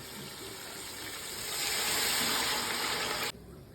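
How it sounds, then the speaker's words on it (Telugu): Water pours into a cooking pot of rice for bagara rice, a steady close gush that swells midway and stops abruptly, no talk. "దానికి 1కి 2 చొప్పున వాటర్ వేస్తున్నాను."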